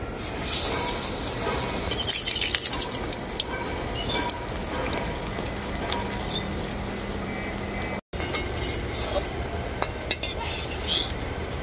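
Steady sizzling and crackling of pointed gourd (potol) chops frying in hot oil, with occasional stirring clinks, continuous and fairly close.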